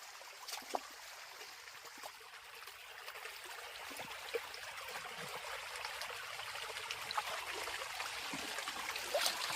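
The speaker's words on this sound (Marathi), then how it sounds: "हे बघा किती भारी पाणी वाहत आहे" A stream runs strongly past a spot where crab traps are set, making a steady, even rushing and trickling wash with faint splashes, continuous throughout and heard alone.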